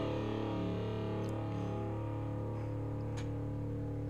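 A sustained electric guitar chord rings out through straight amp gain with thick overdriven tone, slowly decaying, a few faint string scrapes over it.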